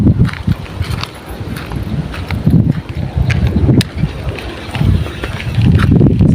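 Wind buffets a microphone outdoors while fishing with an Abu Garcia Max 4X reel, loud low rumbling gusts surging and easing across the whole stretch.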